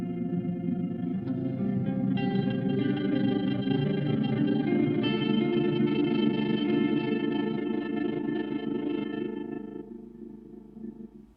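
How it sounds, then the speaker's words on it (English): A granular delay stutter effect from a Mod Devices MOD DWARF pedal processes sustained guitar-like tones into a thick, shimmering, layered wash that swells steadily and then fades out at the end. "It's a granular thing. So this is like a delay stutter kind of thing."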